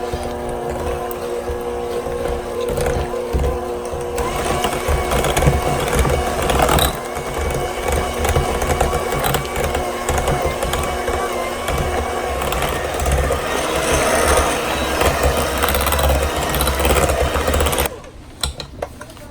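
An electric mixer beats cream cheese for an Oreo cheesecake, with a steady, loud whirring drone that runs without a break for about eighteen seconds and then cuts off abruptly near the end.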